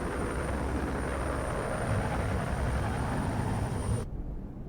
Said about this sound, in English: Give us another flyby, low and slow.